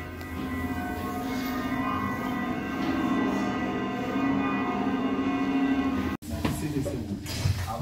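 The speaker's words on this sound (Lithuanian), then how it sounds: "Čia tas bokštas yra kaip ir varpinė, tai galima pasiklausyti varpų visokių melodijų." Carillon bells ringing melodies in a belfry tower in the Netherlands or Belgium, sustained layered tones heard from inside the tower, continuous before a brief break and a noisier ending.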